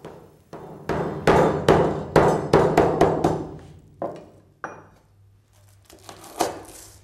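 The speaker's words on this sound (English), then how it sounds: "we'll pound them before cutting them into bite-sized pieces" Two lemongrass stalks pounded on a board before being cut into pieces, a series of sharp, close thuds in an uneven rhythm that thins out to a few scattered knocks.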